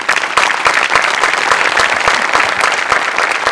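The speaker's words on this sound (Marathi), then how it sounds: "मला असं वाटतं सचिन मोटे आणि अमोल पाटील दोघांसाठी प्रचंड टाळ्या व्हायला पाहिजे" Loud, dense studio audience applause at a Marathi comedy show, steady clapping throughout with no talk.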